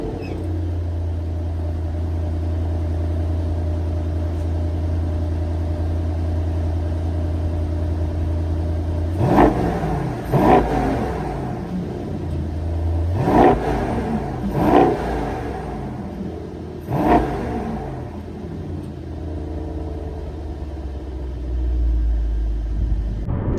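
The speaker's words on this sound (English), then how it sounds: "Let's go ahead and do a cold start and a few revs" A 2020 Mercedes-AMG GT 63 S cold starts, cranking and settling into a rumbling idle, then several sharp revs flare up and fall back, close and loud.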